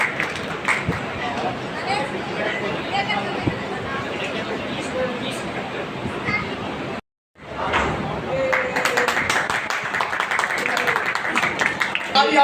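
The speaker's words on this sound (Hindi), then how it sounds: "एक जोरदार ताली आप सभी लोग बजा सकते" An audience claps at a company's seventh anniversary celebration in Darbhanga, sustained mixed applause and crowd noise with a host talking over it, cut by a brief silent gap before the clapping picks up again.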